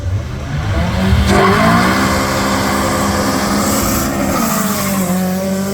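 A turbocharged Golf and a naturally aspirated car launch in a drag race, engines revving hard and loud with rising, overlapping pitches as they pull away, with a little tire noise and no talk.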